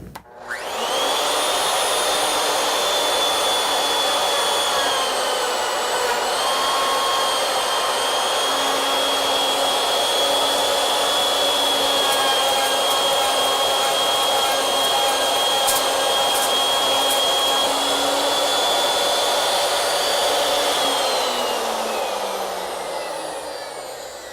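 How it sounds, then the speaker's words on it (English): A plunge router runs steadily for about twenty seconds, a loud, even high-pitched whine with a constant tone that spins up at the start and winds down at the end, with no voices. "if you're using a plunge router"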